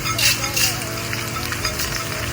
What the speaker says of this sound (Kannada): ಸ್ವಲ್ಪ ಲೈಟಾಗಿ ಫ್ರೈ ಮಾಡ್ಕೊಳ್ಳಿ